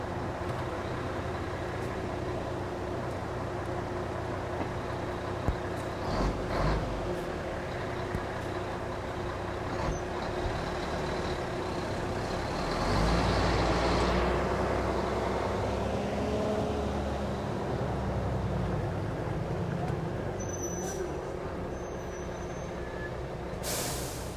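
A coal truck being moved, with a low engine idle, a sharp hiss of air brakes releasing, then a rising rumble as the truck pulls away, fairly near and loud.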